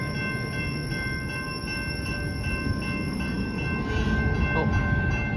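A CSX welded rail train rolls past at close range, a steady rumble of wheels on track with high metallic ringing tones that swell slightly louder toward the end.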